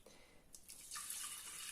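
Milk poured into a pot for porridge, a soft, faint stream of liquid that swells into a steady pour partway through, with no talking.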